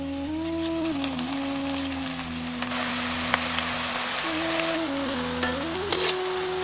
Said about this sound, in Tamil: மிதமான சூடு இருக்கிற எண்ணெயில பக்கோடாவை இப்ப பொரிக்க ஆரம்பிச்சிருவோம்.